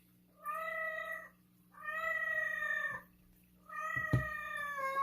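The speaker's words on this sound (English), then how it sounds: "Sorry about my cat." A pet cat in heat lets out three long, loud, drawn-out meows, one after another with short pauses, indoors over a faint steady hum.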